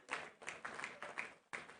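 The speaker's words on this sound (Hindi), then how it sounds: "चाहूंगी एक बार जोरदार तालियां अपने लिए बजाएं" An audience at a political gathering in Delhi claps in an even, rhythmic beat, each clap sharp but faint and distant.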